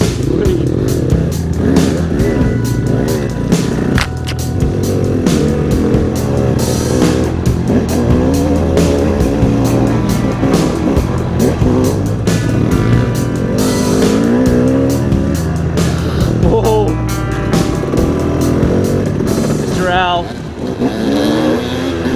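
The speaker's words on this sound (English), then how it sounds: "And then Mr. Ryan and Mr. Al way up front there, cooking that RMZ." A Suzuki RMZ dirt bike engine revs hard and continuously on an enduro trail, loud and close throughout, with throttle surges and engine noise dominating, while a voice talks over it at times.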